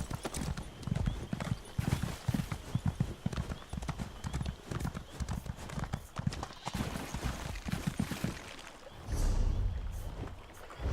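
Horse hooves clip-clopping in The Elder Scrolls Online, a rapid rhythmic galloping patter with occasional snorts, loud and close, giving way near the end to a splashing, watery rush.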